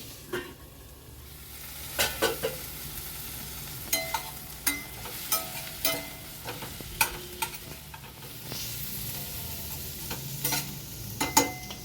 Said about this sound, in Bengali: গ্যাসের ফ্লেমটা একটু বাড়িয়ে আলু পেঁয়াজটা আবার ভেজে নিচ্ছি।